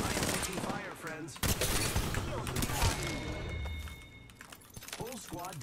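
Rapid bursts of automatic gunfire and impacts crackle through an Apex Legends firefight, dense and loud with game effects layered in, while a player's voice talks over the shooting.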